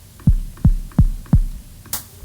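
Four deep, punchy kick drum hits from an AI music tool's drum kit land at an even, steady pace, each a booming low thump, followed by a brief bright tick at the end.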